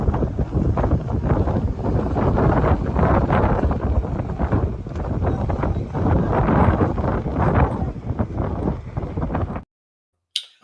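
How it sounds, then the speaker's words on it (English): Strong wind buffets the microphone on a cruise ship's top deck as the ship approaches an island, a loud continuous roaring rush that cuts off abruptly near the end. "Windy, but always is on top deck."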